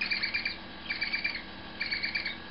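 A tawny owlet makes soft, contented chirring calls in three short rhythmic bursts of rapid squeaky pulses, close and fairly quiet against a low room hum.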